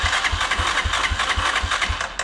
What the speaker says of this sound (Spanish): Voy a darle start a la motocicleta para ver cuánto voltaje alterno produce